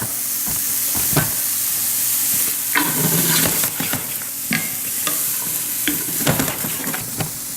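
Broccoli, celery, onions and sun-dried tomatoes fry in a pan, a loud continuous sizzle with repeated scraping and clacking stirs throughout.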